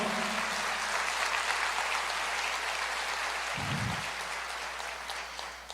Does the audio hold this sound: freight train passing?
no